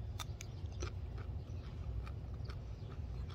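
Crisp crunching bites of raw, lightly steamed garden green beans repeat every few tenths of a second, close and fairly loud over a steady low background rumble.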